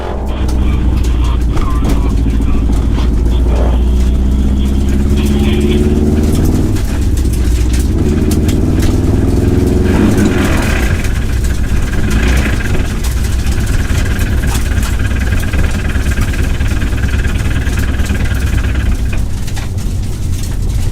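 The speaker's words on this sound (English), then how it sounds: "I think my car's given up, Jamie." A struggling car engine runs loudly and roughly throughout, droning and rattling with uneven surges, while voices talk over it.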